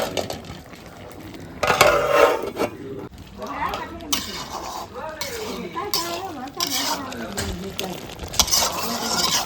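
Chicken with turmeric sizzles in a pan while a spoon scrapes and stirs, with metal clinks now and then and a voice talking over it.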